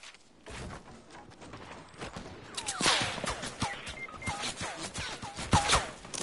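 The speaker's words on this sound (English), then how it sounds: "I'm getting shot at." Video game gunfire during a squad match: repeated sharp shots and bursts crackle throughout, growing denser and louder in the second half, with distant and nearer reports overlapping against a busy battle background.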